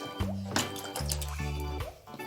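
Water is poured over a doll during a bath, giving a few short splashing, trickling pours up close, with voices humming and talking around them.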